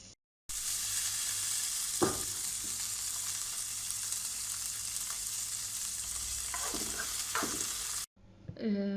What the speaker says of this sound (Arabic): هون بنفس الزيت برضو حمرت الزبيب